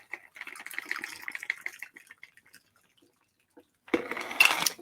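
A sidecar cocktail pours from a shaker into a cup in a thin, trickling stream for about two seconds. After a short pause, a louder clatter of liquid and metal follows.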